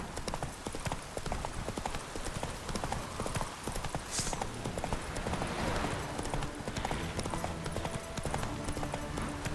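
Roach, the horse in The Witcher 3, trotting with steady, rapid clip-clop hoofbeats on the ground, close and continuous, with game ambience behind.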